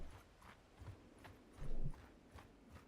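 Horse hooves clip-clop in the game Mount & Blade 2 Bannerlord, a steady run of light, evenly spaced hoof knocks at moderate distance, fairly quiet and with no voices over them.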